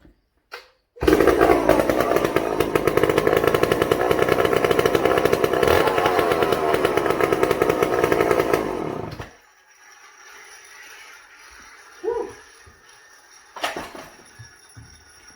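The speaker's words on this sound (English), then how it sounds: "That's a chainsaw. I haven't run that saw in a week." A Homelite XL76 hot-rod chainsaw roaring at full throttle for about eight seconds, loud and close, then cutting off abruptly, followed by quiet handling clatter and a couple of brief knocks.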